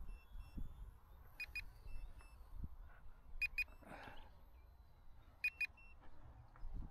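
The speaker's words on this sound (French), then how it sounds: "vous avez un bip quand vous arrivez en fin de l'hypo" Repeated paired electronic beeps from an F4U Corsair warbird RC plane warning of a low battery, sounding three times at regular intervals over faint outdoor background noise with a brief rustle between.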